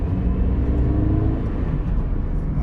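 A Toyota GT86 engine while driving on a single carriageway, a steady low grumbly drone with road rumble heard from inside the car, moderately loud and unchanging, with no talking.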